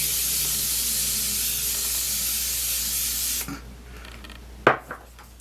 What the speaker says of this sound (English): I'm going to spray my face with my Morphe Continuous Setting Spray.